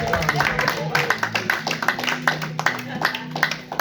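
A church congregation claps in praise of the Lord, steady rhythmic handclaps repeating throughout under singing or voices, moderately close and lively.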